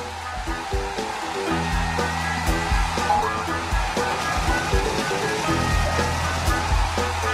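The dryer of a cartoon car wash blows air over an animated car. It sounds like a continuous hair-dryer-like whoosh over a bed of background music.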